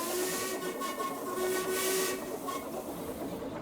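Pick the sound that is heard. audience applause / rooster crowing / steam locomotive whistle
steam locomotive whistle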